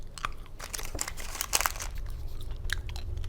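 Someone chews Sugar Babies chewy caramel candies close up, with soft wet smacks and small crunchy clicks in an irregular rhythm, fairly quiet and with no talk.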